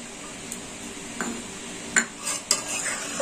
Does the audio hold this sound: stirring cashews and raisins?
yes